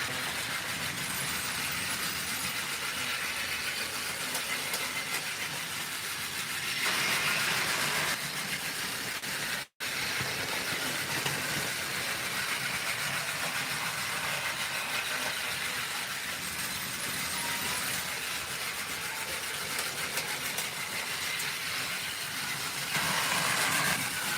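A motorized Trackmaster 2-speed Thomas toy train pulling three chuffing Annies coaches runs steadily with a continuous close whirring and rattling, louder in a few stretches, with a brief dropout near the middle.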